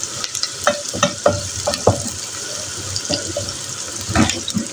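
Spices sizzle and are stirred in a hot pan, with irregular scraping clatters over a steady frying hiss, close up and with no talking.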